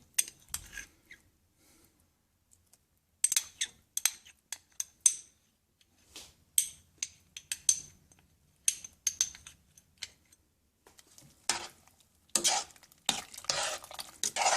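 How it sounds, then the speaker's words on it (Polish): A spoon stirs Tom Yum Goong, a hot and sour Thai prawn soup with lime juice, fish sauce and chili paste, making scraping, clinking strokes against the pot in bursts separated by pauses, close and moderately loud with no speech. "Mieszamy, żeby tam się to wszystkie, wszystkie te smaczki połączyły."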